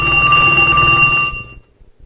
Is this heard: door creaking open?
no